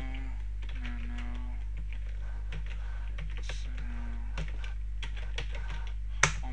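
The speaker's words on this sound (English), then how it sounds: "Then we're going to type in this to edit the file." Close, light keystrokes on a computer keyboard entering a command, irregular bursts of clicks over a steady electrical hum, ending with one sharper key press.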